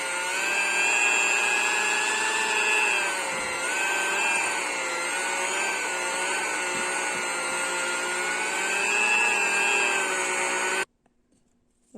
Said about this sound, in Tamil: இப்போ இதை நல்லா பண்ணிக்கலாம் ஃபீட் பண்ணிக்கலாம் எலக்ட்ரிக் ஃபீட்டரெல்லாம்